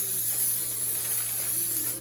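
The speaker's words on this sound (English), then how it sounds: "Then I spray my parchment paper." Cooking spray hisses steadily from a can onto parchment paper lining a pan for mac and cheese, one continuous close bright spray lasting about two seconds with no speech.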